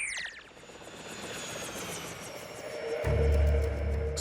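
A cartoon helicopter from Transformers Rescue Bots flies with a steady rotor and engine drone that swells and grows louder near the end, joined by a deep low rumble.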